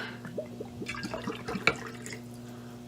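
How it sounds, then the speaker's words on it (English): Rum poured into a glass in a short gurgling glug, a quick run of wet drips and splashes over a steady low hum, close and fairly quiet. "A splash of that rum."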